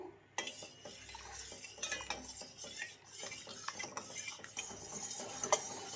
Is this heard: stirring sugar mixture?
yes